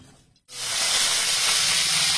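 Potato and eggplant drop into hot oil after a brief silence, setting off a loud, steady sizzling hiss that holds close and unbroken to the end.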